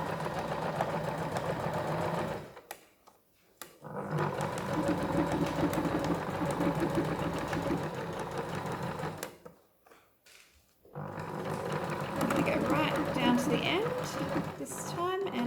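Sewing machine running in sustained stitching bursts while sewing a boho handbag, pausing twice briefly as the fabric is turned at a corner; a steady motor whir with rapid needle clatter, close and fairly loud, with a voice speaking between runs.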